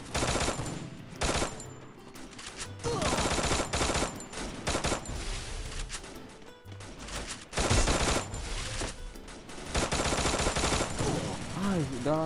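An XM8 rifle with a chicken skin fires in a mobile shooter game in loud, continuous bursts of rapid gunfire, with game sound effects and a player talking over it.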